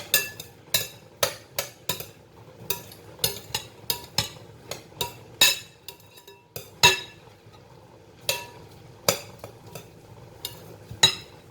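A spoon stirring homemade salsa in a bowl, giving a string of sharp, irregular clinks and taps against the bowl, close and clear with quiet pauses between strokes and no voices.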